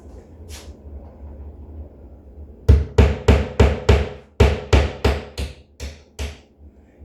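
Hammer blows drive nails into a wall for hanging pictures: one soft tap early on, then about ten loud, evenly spaced strikes in a steady rhythm, close by and with no talking.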